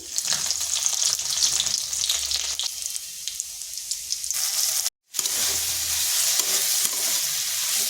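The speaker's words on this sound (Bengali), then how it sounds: "এটা ভাজা ভাজা হয়ে গেছে," Finely chopped garlic fries with cumin seeds in mustard oil in a kadai, a constant bright sizzle with scraping stirs and low clunks, close up, broken by a brief moment of silence before the frying resumes.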